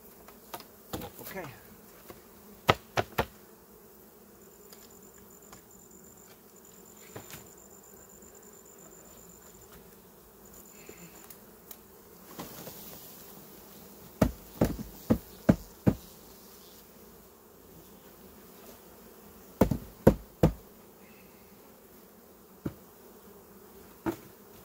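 Honey bees buzzing at a hive during a shook swarm, a soft steady hum with scattered sharp knocks and clicks of hive equipment.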